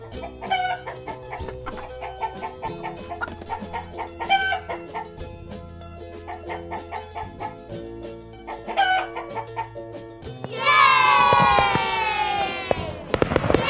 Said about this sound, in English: Yay! Hen. Hen.